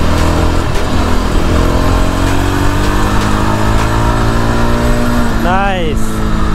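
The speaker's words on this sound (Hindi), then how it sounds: "गुड एक्सेलरेशन, पिकअप बहुत सही है बाइक का।" A Yezdi Adventure motorcycle of about 30 BHP accelerates through city traffic, its engine note climbing steadily and loudly over wind noise, with a brief rising whine near the end and a rider speaking throughout.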